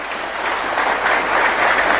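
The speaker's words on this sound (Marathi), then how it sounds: "या सर्वांसाठी एकदा आपण जोरदार टाळ्या वाजवाव्या" A crowd at a community gathering in Aurangabad breaks into loud, dense applause that builds slightly and stays steady throughout.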